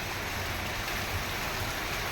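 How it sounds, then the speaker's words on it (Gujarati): Rainwater rushes across waterlogged village farm fields after a downpour, a steady, loud, unbroken watery roar with no voices. "આજ વરસાદે ખેતરું તો આખા પાણીના ભરાઈ ગયા"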